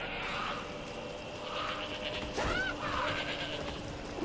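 A goat bleats in the horror action video game Shadows of the Damned, a wavering cry over steady game ambience, moderately loud near the middle of the clip.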